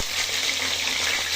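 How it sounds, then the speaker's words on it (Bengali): Pieces of pointed gourd (potol) frying in plenty of hot oil: a dense, even sizzle and crackle, close and steady throughout with no voices. "দেখতেই পাচ্ছ তেলটা গরম হয়ে গেছে, আর আমি এখানে পটলগুলো ছেড়ে দিলাম।"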